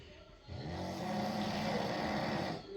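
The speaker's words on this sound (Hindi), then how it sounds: "गजब मेरे हस्बैंड है, इतना ज़ोर से खर्राटे ले रहे हैं" A husband snoring loudly at night: one long, rough, rumbling breath that swells in after a brief quiet moment and holds steady, close and fairly soft overall, with no talking.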